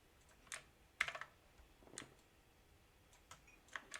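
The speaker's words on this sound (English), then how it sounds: "when I type something in Bash" A computer keyboard taps out a command in a Bash terminal, giving a few faint, scattered clicks with short pauses between them in a quiet room.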